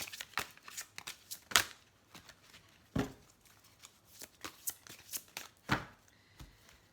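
Tarot cards are shuffled and handled during a reading, giving irregular crisp snaps and riffles, some sharp and close, separated by quiet gaps.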